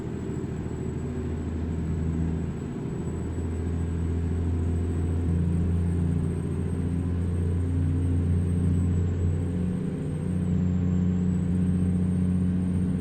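Peterbilt 350 truck engine in American Truck Simulator, a steady low diesel drone with a mild dip and shift in pitch partway through as it changes gears, loud and continuous with no talk.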